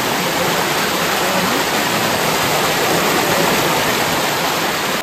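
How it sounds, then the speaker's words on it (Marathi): Gushing water of a swollen stream after heavy flow, a loud, steady, dense roar of rushing water filling the whole clip with no pauses. "आवाज बघा काय पाण्याचा खळखळतोय नुसता बघा."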